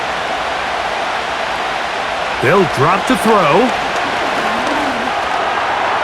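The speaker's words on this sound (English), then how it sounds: "This crowd into it now as we get to 3rd down" A stadium crowd in Madden NFL 25 keeps up a steady, dense roar as the Giants face the Colts, with a commentator talking over it partway through.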